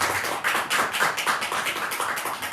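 A church congregation at a Sunday morning service claps steadily in a loud, continuous round of applause.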